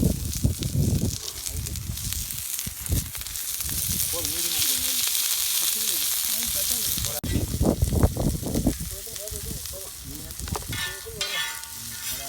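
Onions sizzling and frying in a pan of oil in a village outdoor kitchen, a continuous close hiss with stirring scrapes, while people talk over it throughout.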